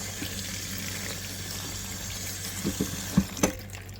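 Dandelion flowers are washed in water, giving a steady running trickle with a few brief splashes and sloshes toward the end, close by and without talk.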